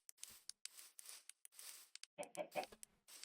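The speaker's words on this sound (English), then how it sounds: "Chicken." Minecraft chicken clucking in the video game, a series of short soft clucks in an irregular rhythm, close and fairly quiet with small clicky sounds between them.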